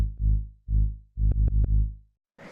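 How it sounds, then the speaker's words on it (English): A buzzy saw-wave synth bass plays a short repeating line of low notes, some with quick stabs, loud and alone before a brief noisy tail. "So the next and final layer is this bass, which sounds like this."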